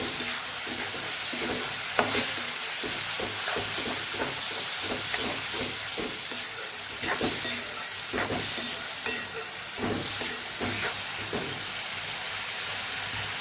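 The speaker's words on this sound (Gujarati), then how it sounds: "સરસ આપણે સાતળી લેવાના છે ટમેટાને" Tomatoes and tomato purée sautéing in a pan for Kathiyawadi sev tameta shaak, a constant close sizzle and hiss broken by frequent scraping stirs. No one speaks.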